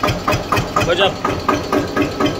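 A tractor engine started up and running with a steady, evenly pulsing chug, close by and loud, while a voice briefly exclaims over it.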